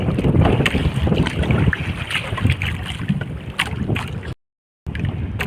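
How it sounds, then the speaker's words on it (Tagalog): Strong wind buffets the microphone over open water, a steady roaring rush with a boat's noise beneath, cutting out briefly near the end. "Mahangin lang talaga. Ano? Siguro marinig dyan yung hangin."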